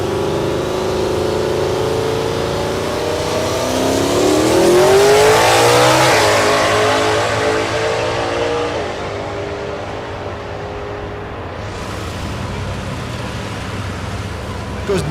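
A Silverado pickup drag races down the strip at Thunder Valley in Noble, Oklahoma, its engine revving up to a loud pass and then receding, with a track announcer speaking over the run.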